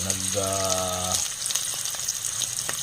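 Onions and garlic fry in hot cooking oil for chicken adobo, giving a steady close sizzle; a sustained tonal hum runs through the first second before the frying carries on alone.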